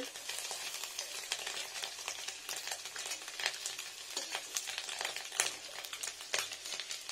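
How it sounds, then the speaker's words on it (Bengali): Fish roe fritters sizzle gently in hot oil over low heat, with soft crackling and scattered pops, quiet and close with no talking. "বড়াগুলো ভেজে নিচ্ছি ভালো করে"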